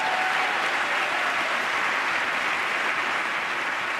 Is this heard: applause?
yes